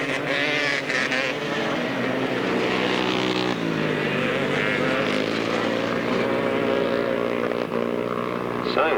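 Grasstrack racing motorcycles, one a 250 misfiring badly, roar past at a 1993 meeting, a loud continuous rising and falling engine drone with a commentator's voice talking over it.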